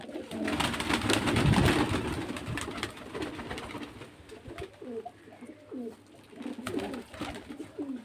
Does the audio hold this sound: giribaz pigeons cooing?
yes